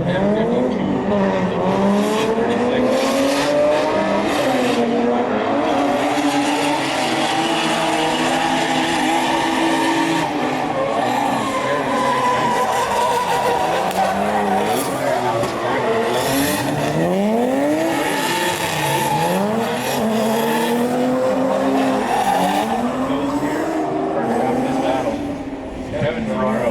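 A drift car with a turbocharged BMW M52 engine drifts at a pro-am event, its strained, revving engine rising and falling steadily over sustained tire squeal, loud and continuous, with a commentator's voice running over it.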